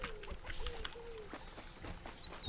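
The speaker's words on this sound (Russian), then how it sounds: "Это чайка." A seagull calls in the nature-rescue video game Alba, a short cry among ambient game sounds and soft low rumbles, moderately faint.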